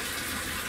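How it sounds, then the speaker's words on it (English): Tap water pouring into a freshwater aquarium during a gravel-vac clean-up, a close, steady rushing gush with no pauses and no voices. "let's make sure we just add the rest of our water"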